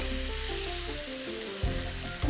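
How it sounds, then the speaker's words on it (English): Beef sizzles steadily in a very hot pan, a dense, close frying hiss with a low hum underneath and occasional stirring bumps. "The pan is very hot. In goes the beef."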